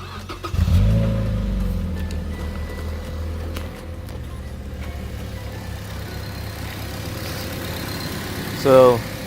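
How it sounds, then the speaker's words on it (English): A 2006 Mazda Miata MX-5 with its hood open starts with a loud crank and catch, then settles into a steady close idle, with a brief blip near the end and some talk over it. "I'm gonna start the car, and that way we can kind of just hear what it sounds like."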